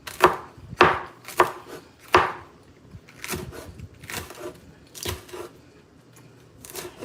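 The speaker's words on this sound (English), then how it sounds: "Here is my chili pepper from my garden. And I'm going to cut the whole thing up." A knife chops through a whole chili pepper from a home garden on a cutting board, giving about ten close, sharp knocks in uneven bursts with short pauses between them and no talking.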